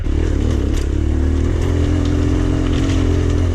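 A trail motorcycle rides off-road on a green lane, its engine a loud, close, continuous low drone with shifting pitch and rattling clatter over bumps, heard alone without talk.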